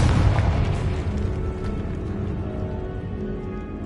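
A Confringo fire-blast spell bursts in Hogwarts Legacy, a loud boom at the start that rolls off into a long rumbling, crackling tail, with no talking over it.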